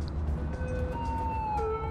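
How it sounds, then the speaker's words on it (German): Police car and ambulance sirens wail together in the Cities: Skylines city-building game, with steady rising and falling tones over a constant traffic rumble, moderately loud and continuous. "Polizei und Krankenwagen"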